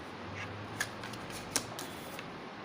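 Tarot cards are shuffled and drawn from decks, soft papery riffling with a couple of sharper snaps of card edges, close and quiet, with no talking.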